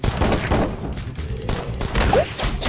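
Gunfire in the zombie game Run! Zombie Foods, heard as a dense, continuous rattle of shots and thuds across the whole stretch, loud and busy with no pauses.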